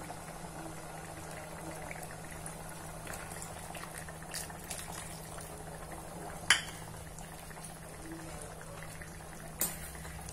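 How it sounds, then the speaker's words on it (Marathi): A pot of chickpea curry bubbles at a steady low simmer, a soft continuous gurgle with a couple of sharp clinks partway through. "आणि छान उकळू द्यायचे आहे"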